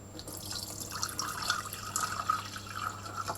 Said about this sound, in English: I'm going to pour it into the kettle.